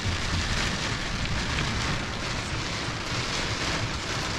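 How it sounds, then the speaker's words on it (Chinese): Heavy storm rain pours down outside a camper van, a dense, continuous hiss of drops on the surface with some wind, loud and unbroken. "今天这个雨下的是太大了，外面狂风暴雨"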